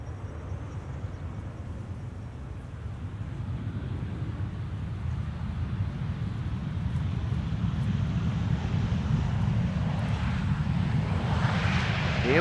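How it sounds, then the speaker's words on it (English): A KLM Boeing 777-300 arriving at Amsterdam Schiphol with its landing gear down approaches as a low engine rumble that slowly swells louder over the stretch, mixed with wind buffeting the microphone, no voices. "the gear extending behind on the 777-300 arriving from Sao Paulo, KLM flight 792"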